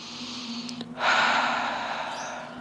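A long, deep breath during a yoga session for hips and lower back, a short sniff followed by a broad, steady airy exhale lasting over a second, close and fairly loud, with no talking.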